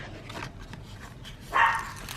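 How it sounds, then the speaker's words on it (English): Dogs bark at a distance, with one louder bark standing out briefly near the end over a low, steady room background and no speech. "Once one barks, they all bark."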